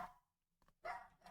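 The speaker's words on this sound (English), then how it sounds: "Dog is barking in the other room because Mrs. Reimer just got back from the store." A dog barks in another room of the house, two short muffled bursts separated by a brief quiet gap, faint and somewhat distant.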